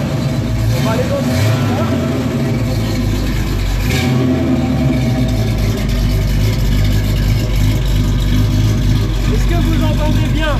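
A car engine runs loud and close throughout as the driver gives it gas, a steady throaty roar with mild swells in revs while people talk over it.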